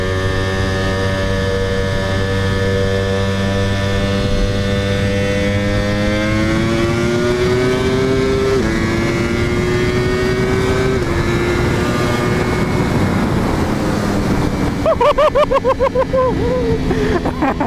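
A 2018 Ducati Panigale V4R motorcycle engine revs through a downshift: a steady harmonic drone climbs in pitch, then the note drops and breaks into a burst of sharp crackles near the end, loud and close.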